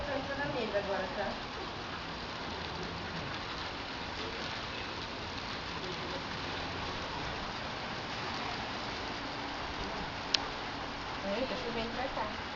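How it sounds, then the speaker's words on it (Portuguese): Steady rain falls in a dense, even hiss close by, with faint voices talking underneath and a brief click near the end. "Tá chovendo pra cá."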